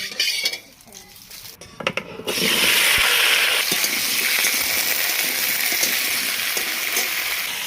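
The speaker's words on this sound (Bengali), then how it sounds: "আলুগুলো এখন ভেজে নিই" Cut potatoes hitting hot oil in a kadai: a brief clatter of pan handling, then a loud, steady, close sizzle that holds without a break to the end.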